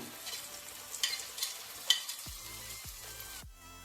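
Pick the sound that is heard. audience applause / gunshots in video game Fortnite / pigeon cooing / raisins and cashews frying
raisins and cashews frying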